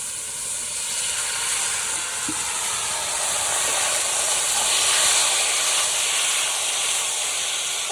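Steady sizzling and hissing of taro greens frying in a hot pan, a continuous close crackle with no talking.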